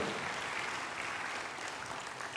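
A church congregation claps together during a service, a steady, even wash of applause that goes on throughout the short clip, with no distinct voices.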